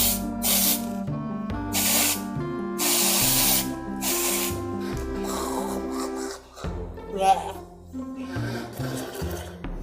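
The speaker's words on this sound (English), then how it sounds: "Give it a little spray." Several bursts of aerosol hairspray hiss in short pulses over a steady musical background, followed by soft rustling and handling sounds.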